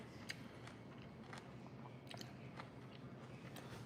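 Faint, crisp bites and chewing on crispy asparagus, a scatter of small crunchy clicks over a steady low background hum, with no voices.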